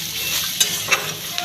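Onion and spices fry in a pan with a bright continuous sizzle, punctuated by three sharp scraping stirs of a spatula close up.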